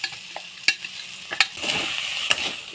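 Cooked, finely crumbled beef filling is stirred in a hot pan, sizzling softly while a spoon scrapes and knocks against the pan in a few sharp strokes, close up and with no voices.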